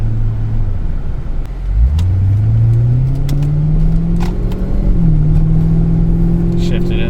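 An abandoned luxury coupe with a previously bad transmission accelerates under load past 2,000 RPM. The engine drone climbs, dips at a gear change, then rises again with a second shift, loud and close from inside the car.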